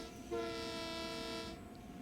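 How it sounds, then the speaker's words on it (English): A Long Island Rail Road train horn in Train Sim World 4 blows a single sustained chord of one tone, loud and steady for over a second, then cuts off, leaving the low rumble of the train. "We've only got 1 tone of horn."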